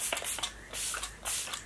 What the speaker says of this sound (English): I'm going to go in and set my face again with my Kat Von D Lock It Setting Spray.